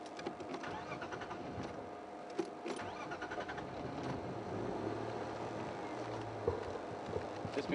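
A safari vehicle's engine idles steadily on a leopard-watching game drive, a continuous low rumble with broadband hum and a few faint knocks and clicks, no voices present.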